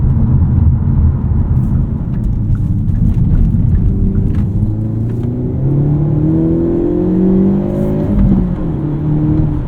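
A 2024 Hyundai Elantra N with a six-speed manual revs hard and climbs through several quick gear changes, the pitch dropping sharply at each shift before rising again, loud and close.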